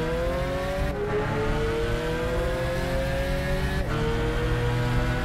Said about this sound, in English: Lamborghini is very quick off the line here.